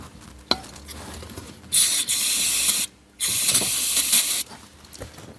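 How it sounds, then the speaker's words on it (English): Brake cleaner sprayed onto the engine of a barn-find 1974-era Triumph Dolomite 1850: two loud, close hissing bursts of about a second each separated by a short pause, over faint mechanical clicks. "Good old brake cleaner."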